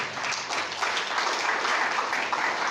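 A church congregation at a Sunday service claps together in praise of Jesus Christ, a full, continuous burst of applause from the whole room, with no voices over it.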